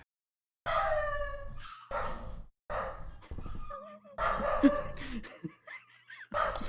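A dog barks and yips in a series of short, high, nearby bursts with whiny, whimpering tones between them and brief silent gaps. No voices.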